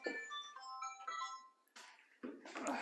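A phone ringing with a melodic electronic ringtone, a few tonal phrases in sequence, followed by broadband rustling or handling noise.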